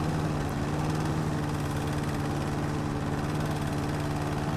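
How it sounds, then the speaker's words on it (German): A push lawn mower in the video game House Flipper runs at a steady, droning engine hum. The sound is continuous and loud, with no breaks and no voices. "Ich würde eher mit dem Rasenmäher-Traktor rumfahren wollen, als mit so einem Rasenmäher über die komplette Wiese rüber"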